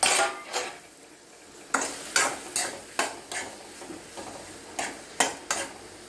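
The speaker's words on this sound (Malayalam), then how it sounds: "ഇങ്ങനെ കഷ്ണങ്ങളാക്കിയിട്ട് അത് നമുക്കൊന്ന് നന്നായിട്ട് വരട്ടിയെടുക്കാം കുറച്ച് നേരം നെയ്യിൽ വഴറ്റാം" Plantain pieces sauté in ghee for an ada pradhaman dessert, with a soft frying sizzle under about nine distinct scraping strokes of a spoon stirring the pan, fairly close and fairly loud.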